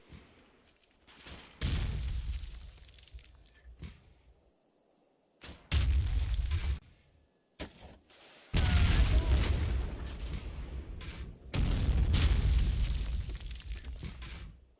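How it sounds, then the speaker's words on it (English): American 60mm mortar rounds burst in the PC wargame Combat Mission Final Blitzkrieg, a series of several heavy booming explosions separated by quiet gaps, each with a rumbling tail. "American 60mm mortars hit the southeast corner of the graveyard."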